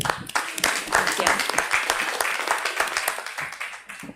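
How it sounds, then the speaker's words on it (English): Audience applause at the close of a session at the International Phytotechnology Conference, a brisk spatter of many hands clapping at moderate loudness that slowly thins toward the end. "An applause."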